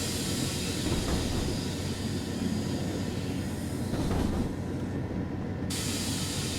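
DB BR 628.2 diesel railcar coasting along the Niddertalbahn between Bad Vilbel and Stockheim in Train Sim World 3, a steady low rumble and rolling hiss throughout, fairly loud and continuous with no talk.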